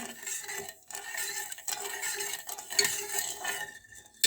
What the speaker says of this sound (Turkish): İlk önce karıştıracağım.